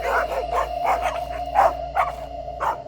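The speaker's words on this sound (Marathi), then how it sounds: "ते आता जोरजोरात भुंकत होते" Three farm dogs bark hard at night at a vehicle stuck in the field mud, a steady volley of loud, close barks and yelps repeating several times across a few seconds.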